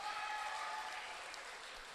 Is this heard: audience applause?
yes